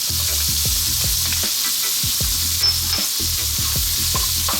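Onion and garlic frying in hot oil over high heat while being stirred for Chinese five spice pork belly, loud continuous sizzle with repeated scraping strokes of a utensil, no talking.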